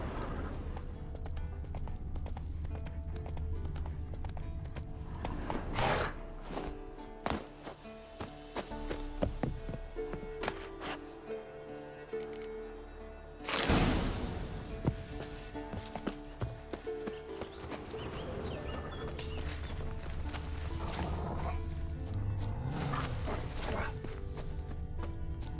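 Horse hooves clip-clop in The Witcher 3: Wild Hunt, a rhythmic series of fairly close steps with a brief loud burst midway and other game sounds around them.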